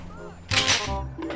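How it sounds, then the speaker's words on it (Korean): A sharp explosion bursts from GTA 5 gameplay, a single loud blast with a brief crackling tail, set over a steady background game hum. "뭐야 얘 막 지금 폭탄 터지는데?"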